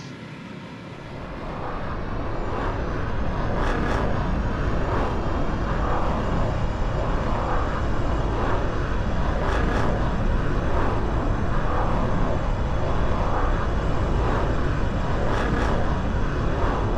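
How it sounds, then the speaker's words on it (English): A jet's afterburners roar as a steady, loud, unbroken rush that swells over the first couple of seconds and then holds in Roblox Aeronautica, a flight video game. "Light the afterburners."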